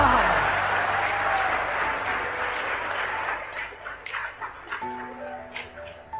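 An audience at a Hindi satirical poetry recital breaks into loud applause that gradually fades over a few seconds, followed by the performer's speaking voice.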